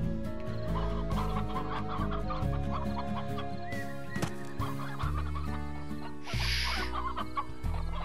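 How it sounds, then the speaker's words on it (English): Chickens in the Slime Rancher video game cluck repeatedly over a looping background music track, their short calls coming in quick bursts throughout. "I'm on a hunt for chickens."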